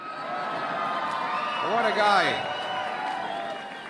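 Crowd at a political rally cheering and whooping, building to a brief peak of shouts while someone speaks over the noise through a public address system.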